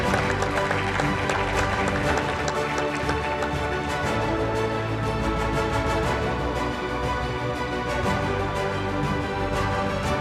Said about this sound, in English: Ladies and gentlemen, a big round of applause to congratulate this cooperation.